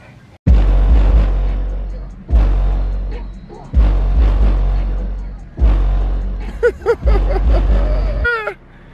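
A newly installed car audio system plays inside a car, booming with heavy, deep bass in long repeated pulses that fill the cabin, loud and close, with brief higher sounds near the end.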